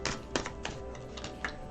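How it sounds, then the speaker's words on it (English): Playing cards are shuffled with a quick run of crisp, clicking riffles and flutters. The sound is close and fairly soft and rattles unevenly for under two seconds. "These cards won't shuffle right"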